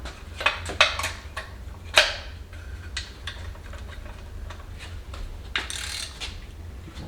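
Stroker crank being turned by hand inside a VW air-cooled engine, a run of close metallic clicks, ticks and ratcheting knocks, irregular and fairly quiet, with no talk.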